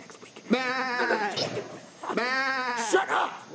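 A person imitates a sheep in a comedy skit, giving two long, wavering bleats close up, each about a second and a half, with a short break between them.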